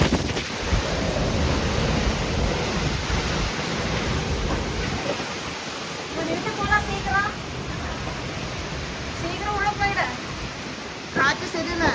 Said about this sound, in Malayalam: ഭയങ്കരം കാറ്റ്, എല്ലാം ഒടിയാൻ ചാൻസ് ഉണ്ട്.